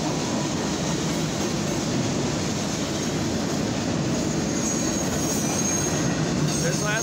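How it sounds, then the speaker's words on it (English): A CFE mixed freight train of grain and rail cars rolls steadily past a street railroad crossing up close, with a continuous loud rumble of wheels and occasional squeals throughout. "this train is CFE-09, proceeding from Cole to Adams on the main track"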